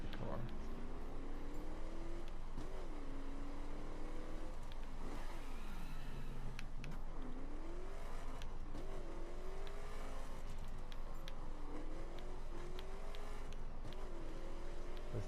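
Car engine revving in the racing game The Crew, rising and falling in repeated sweeps over a steady drone for the whole stretch, with a sharp high surge near the middle.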